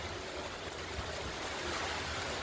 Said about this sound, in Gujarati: ભારે પવન સાથે ધોધમાર વરસાદ વરસી રહ્યો છે